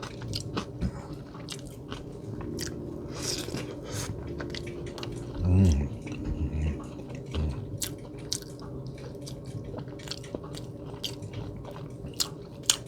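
Close-up eating of Popeyes fried chicken dunked in thick, chunky gravy and hot sauce, with wet squishy bites, smacking chews and scattered crunches at an uneven pace.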